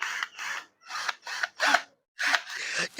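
A small electric screwdriver whirs in short, close bursts with brief silent gaps between them, running in forward and reverse on a screw.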